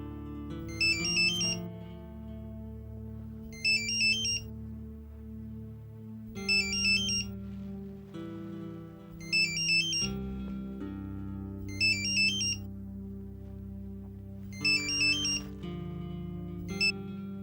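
A phone ringtone rings in a drama scene, a repeating electronic melody with bright chiming bursts about every two to three seconds, loud and continuous with no talk.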